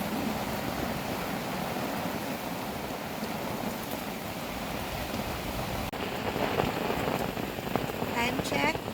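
Heavy rain pours steadily at a campsite, a dense close hiss of drops hitting surfaces that grows a little louder near the end, with faint voices underneath.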